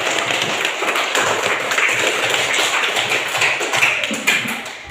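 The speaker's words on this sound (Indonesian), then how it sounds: "Ya, berikan tepuk tangan." A classroom of children claps together after a correct answer. The brisk, dense applause holds steady and fairly loud for the whole stretch, with no voices over it.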